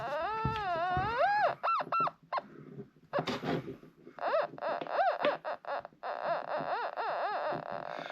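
A metal detector pinpointer reacting to a coin: a warbling electronic tone sweeps up and down in pitch, then breaks into a series of rapid rising chirps and beeps that pulse on and off.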